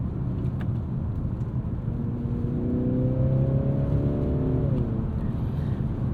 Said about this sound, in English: the more aggressive you go with the drive modes, the more piped in engine noise you get